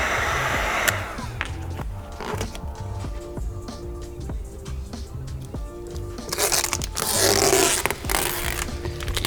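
A heat gun blows a steady hiss and whoosh over a tail light wrap edge, rising louder near the end, with faint handling scrapes and some background clatter.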